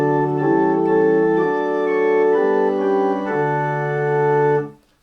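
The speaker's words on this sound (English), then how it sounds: "The first family is the principal or diapason sound." Pipe organ principal (diapason) stop playing a sustained chordal passage with steady, full harmonic tone, changing chords several times before cutting off cleanly, heard alone without voices.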